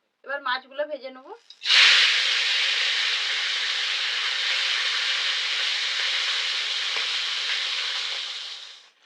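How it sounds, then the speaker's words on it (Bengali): Khalisha fish drop into hot mustard oil and burst into a loud, continuous sizzle that holds steadily and fades slightly, after a brief spoken line at the start. "এবার মাছগুলো ভেজে নেব।"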